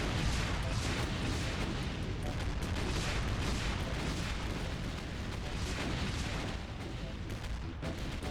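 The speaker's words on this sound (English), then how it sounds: "I have enough rockets. I'll use it." Rocket launcher fire in GZDoom running the Brutal Doom mod, a continuous barrage of heavy booms and explosions rumbling loudly for eight seconds with no break, dense and chaotic.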